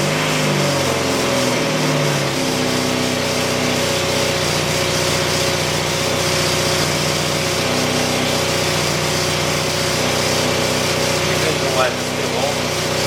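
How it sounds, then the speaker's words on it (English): A Dodge Neon car engine with a replaced catalytic converter cranks briefly, catches, then settles into a loud, steady idle, heard up close with a constant drone and rattle. "So I will disconnect it, switch it off, start the vehicle."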